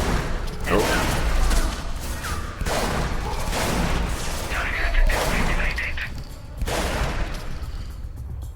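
Shotgun blasts fire in the Scourge Outbreak video game, loud broadband bursts repeating every second or two amid continuous gunfire from nearby teammates, with someone talking over the shooting.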